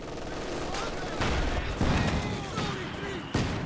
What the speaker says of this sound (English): Just taking some pot shots at the guards here.